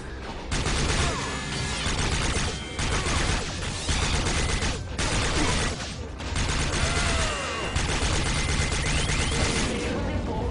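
Heavy gunfire from a powerful weapon in the shooter game Rage, a loud, dense stream of blasts and crashes running nearly nonstop with brief gaps, mechanical clatter mixed in.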